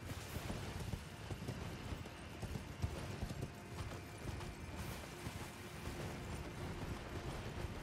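Quiet, steady clip-clopping of horse hooves in the video game Elden Ring: Shadow of the Erdtree, over a soft noisy background, continuous throughout with no voices.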